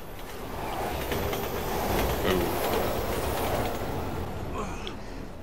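A train rushes past in Resident Evil 6, a loud rumbling roar with rattling, clacking wheels that swells to a peak in the middle and then eases off, with thin metallic squeals near the end.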